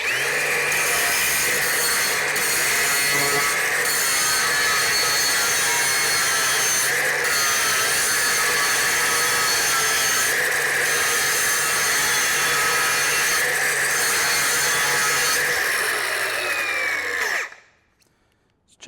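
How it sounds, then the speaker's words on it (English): A Milwaukee M18 Fuel 3672 cordless angle grinder grinds a piece of angle iron with a loud, continuous high-pitched whine and harsh scraping for about seventeen seconds, then spins down and falls silent. "try this grinding disc on this piece of angle iron here"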